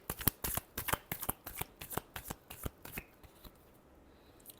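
Tarot cards are shuffled in a rapid run of about a dozen crisp riffling snaps over three seconds, close and alone, before fading into quiet room tone.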